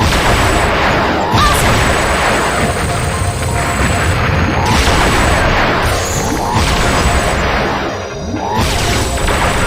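Dense barrage of enemy missile explosions and booming blasts in the shoot'em up game Liberation Maiden, continuous and loud with crashing impacts and brief gaps, layered over game effects.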